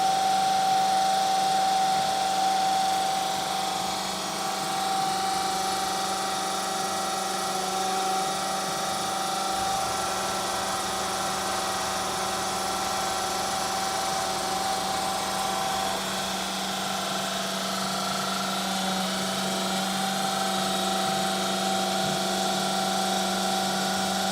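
A fuel pump runs steadily as it fills a tank through a fuel-lock dispenser, making a continuous loud mechanical hum and whine that stays even throughout, with no talking.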